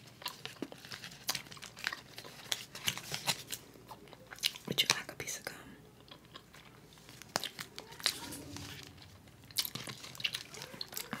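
Trident chewing gum being chewed close to the microphone in an ASMR eating session, with soft repeated wet clicks and smacks in an irregular rhythm over a quiet background.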